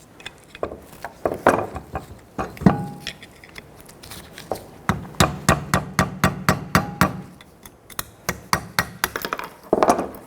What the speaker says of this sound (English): you can use a hammer and just kind of tap this